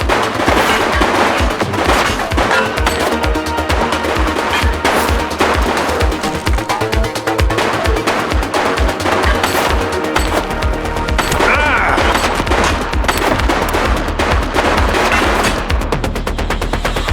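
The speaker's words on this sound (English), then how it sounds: "Shots fired!" Video-game gunfire in The Precinct, set in a neon-lit city during a police chase and crime scene: a long, dense, loud barrage of rapid automatic shots that continues almost without pause.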